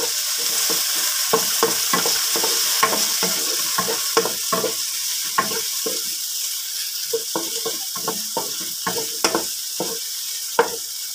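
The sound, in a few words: sautéing garlic, onion and tomato in a pan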